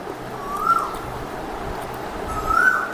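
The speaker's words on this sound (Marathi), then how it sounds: "बाहेर कोकिळेचा आवाज येतो तुम्हाला?" An Asian koel calls outdoors near Mirkarwada fishing harbour in Ratnagiri: two rising, whistled notes about two seconds apart. They sound moderately distant above a steady ambient hum.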